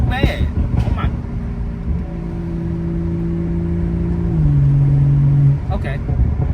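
A BMW 440i Gran Coupe with an MHD tune idles with a steady, smooth engine drone. The pitch shifts slightly lower near the end, and faint movement sounds occur around it.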